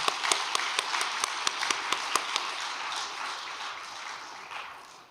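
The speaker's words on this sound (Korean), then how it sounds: "박수를 올려드리면 감사하겠습니다" An audience at a church worship event claps in a sparse, rhythmic patter of distinct handclaps that blends into a denser wash of applause, moderately close, with no speech over it.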